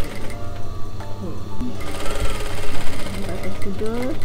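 Sewing machine stitching a pillowcase, its motor whirring in steady bursts with some mechanical clatter, while someone speaks over it.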